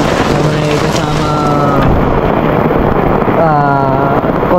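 Wind and rain buffet a hammock campsite with a tarp at night near a flowing spring, a loud, steady rush of noise close to the microphone, with a voice talking underneath.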